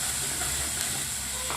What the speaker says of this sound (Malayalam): വറ്റൽ മുളക് ഇട്ട് കൊടുത്ത് ഒന്ന് വഴറ്റി അതിലേക്ക് ഇഞ്ചിയും വെളുത്തുള്ളിയും